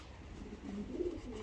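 A racing pigeon gives a soft, low coo, close and faint over a quiet background.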